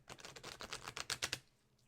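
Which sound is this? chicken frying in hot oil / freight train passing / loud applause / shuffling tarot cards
shuffling tarot cards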